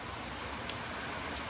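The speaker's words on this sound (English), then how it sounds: "It's raining pretty hard right now." Heavy rain at night pours down in a dense, unbroken hiss, steady and loud, with no voices over it.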